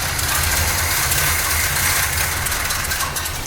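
A 1972 Corvette, left abandoned in a field for years, idles steadily, its engine running as a dense, unbroken rumble with broadband hiss, close and loud for several seconds without talk.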